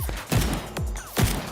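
Animated-show gunfire comes as three sharp, punchy shots spaced a little under half a second apart, each with a quick decaying tail, close and with no voices.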